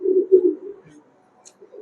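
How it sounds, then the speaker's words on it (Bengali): A pair of Pakistani highflyer pigeons, male and female, coos close by in a few low throaty phrases, with a short pause and a faint high chirp before the cooing resumes. "এই হচ্ছে কবুতর"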